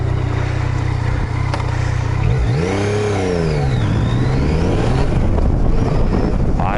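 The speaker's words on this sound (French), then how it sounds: "Ah, le moteur il répond à tous les régimes." Yamaha Tracer 900 GT motorcycle engine accelerating on the road, a loud continuous run with a rising then falling pitch sweep as revs climb through the gears, steady wind-like roar throughout, no talk.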